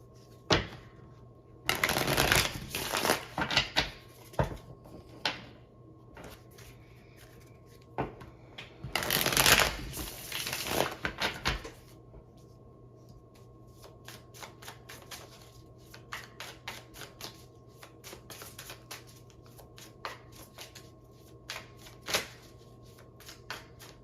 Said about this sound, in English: I'm going to pull out a tarot card for each one.